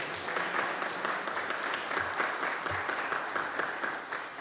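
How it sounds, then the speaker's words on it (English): Steady audience applause at an evening speaker series talk, a dense, even wash of many hands clapping at moderate loudness for about four seconds with no voices over it. "Let's give them a big round of applause"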